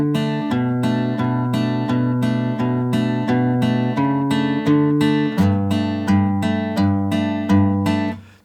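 Fingerpicked acoustic guitar line: clear plucked notes ring out one after another in an even, flowing rhythm, close and alone.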